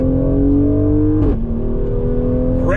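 A 2020 Mercedes-AMG GLC 43 SUV in automatic mode accelerates hard on throttle, its engine note climbing loudly, briefly dropping at a quick upshift, then rising again close to the cabin.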